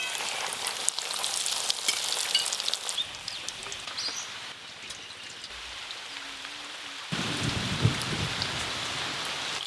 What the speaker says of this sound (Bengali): এই দেখুন ফিশ ফিঙ্গারগুলো কত সুন্দর ভাজা হয়েছে